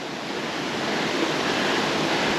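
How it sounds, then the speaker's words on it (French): Yungdam Bokpo waterfall in Seoraksan park, Korea, gives a steady, broad rushing roar of falling water, constant and fairly loud throughout with no talking. "Arrivé à la Yungdam Bokpo Cascade Waterfall."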